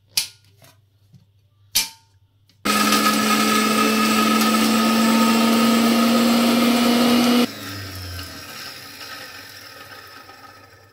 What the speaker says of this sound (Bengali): মাখানিটা আর বাদামগুলোকে একসঙ্গে গুঁড়ো করতে হবে।